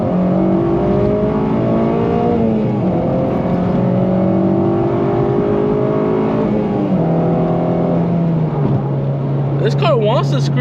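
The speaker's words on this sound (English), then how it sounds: "This car wants to scream, bro." A slammed 8th-generation Honda Civic Si revs hard while driving at night. The loud engine note rises and falls through several gear changes, close and continuous. A brief squeal comes near the end.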